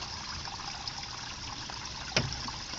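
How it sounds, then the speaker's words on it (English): Water trickles and drips off a tarp in a soft, continuous dribble, with one sharper splash near the end standing out above the steady flow. "Yeah, that's quite a bit of dripping."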